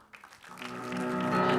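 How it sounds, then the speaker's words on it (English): Audience applause greeting panelists as they walk onto a convention stage in a cinema hall, building steadily from near silence into a broad, sustained wash of clapping. "please give them a big round of applause as they come on"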